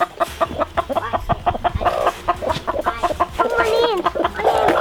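Backyard chickens, including broody hens, cluck and squawk in close, busy bursts around a family garden plot, with a person talking among them.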